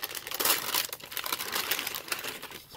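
Plastic shrink wrap being peeled and crinkled off a GameCube game case, a close, continuous dry rustling and crackling that runs steadily throughout with no talk.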